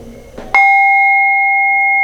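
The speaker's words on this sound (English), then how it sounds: "let's do the protection bell." A protection bell struck once at the start of a tarot reading, with a sharp bright strike after some soft rustling, then a pure ringing tone sustaining loud and clear to the end.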